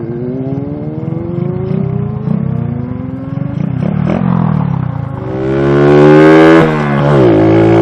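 A motorcycle engine revs steadily, pitch climbing as it accelerates, then surges louder and higher before easing off; close and loud, with no talking.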